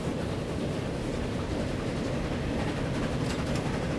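A train in the game Transport Fever rolls steadily along its rails, a continuous broadband rumble with faint clickety-clack, loud and unbroken, with no talking.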